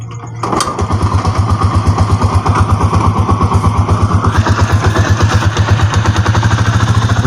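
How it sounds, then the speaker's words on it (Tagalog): A Rusi TC 125 motorcycle engine with a noisy fault, close and loud, starting up and then running with a steady rapid chugging pulse, its pitch stepping up partway through. "i-change gear natin siya"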